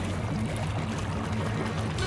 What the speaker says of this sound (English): The water must have gone down that pipe spout!